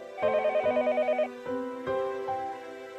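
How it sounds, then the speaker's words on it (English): Telephone bell ringing in the Higurashi video game, a phone sounding downstairs in a house: a repeated electronic trill in short bursts, clear and fairly loud, followed by a couple of steady tones, with no voices. "The phone rang noisily downstairs."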